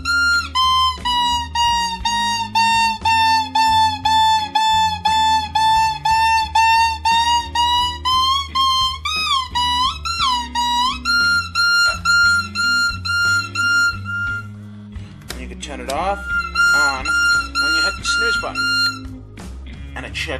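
A Sonic Bomb alarm clock sounds its alarm, a loud, shrill warbling tone pulsing in rapid even beats for about fifteen seconds, then switching to a different siren-like tone before continuing.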